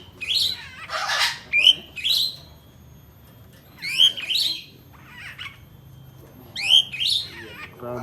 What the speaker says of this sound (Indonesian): Rambatan Doraemon.